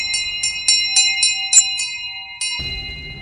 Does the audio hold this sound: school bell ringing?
yes